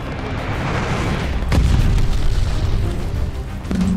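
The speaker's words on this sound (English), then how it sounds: "Glide bomber assist coming in." Glide bomber killstreak explosions in Call of Duty: Vanguard search and destroy, a loud sustained rumbling boom with a sharp blast near the middle and continuing roar afterward.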